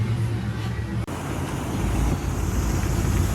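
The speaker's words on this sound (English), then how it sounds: "this old school Corvette sounds really nice" An old school Corvette Stingray engine runs at a car and truck show, a steady close rumble with a continuous low roar and no talk.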